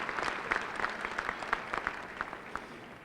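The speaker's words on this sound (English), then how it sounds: "A nice round of applause," Graduation audience at a 1998 high school ceremony claps steadily, a moderately distant wash of many hands with scattered sharper individual claps standing out, no voices.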